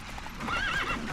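Roach, the horse in The Witcher 3 game, gives a short neigh over galloping hoofbeats, close and loud for about a second with no talk.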